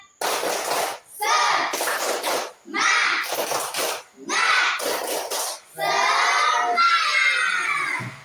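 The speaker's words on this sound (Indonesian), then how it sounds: "mari kita bersama-sama untuk tepuk semangat" A group of children in a classroom performs a spirit clap chant, bursts of shouted syllables and sharp clapping in rhythmic phrases separated by short pauses, loud and close.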